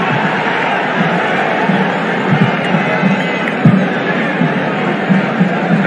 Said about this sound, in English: The crowd is standing behind the local side.